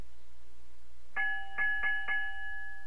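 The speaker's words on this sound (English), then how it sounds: "It was a ship's bell." Ship's bell in the video game Broken Sword 2, struck four times in quick succession, bright ringing strikes that sustain briefly after a quiet start.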